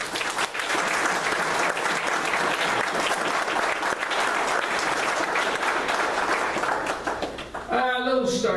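An audience at a Hockey Hall of Famer's speaking event gives sustained applause. Dense, even clapping fills most of the clip, then tapers near the end as a voice resumes speaking.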